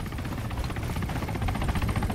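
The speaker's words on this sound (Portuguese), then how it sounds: "O problema é esse helicóptero aí, cara." A helicopter in the Arma 3 video game holds a steady, loud rotor thump and engine whine throughout, close and continuous with no talk over it.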